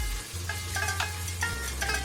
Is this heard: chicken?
no